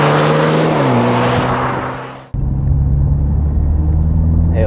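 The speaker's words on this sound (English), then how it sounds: "Hear that intake noise there," A 2020 MINI Clubman JCW LCI is driven hard, its engine and intake note rising under load. After a sudden drop at a gear change, it settles into a steady, close drone inside the car.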